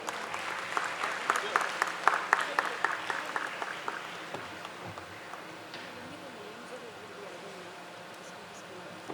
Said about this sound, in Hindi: तालियां हो जानी चाहिए।